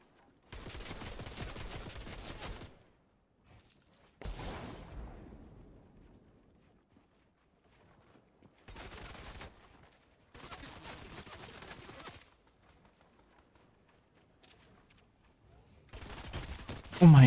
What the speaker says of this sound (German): Oh mein Gott, jetzt schießen alle auf mich.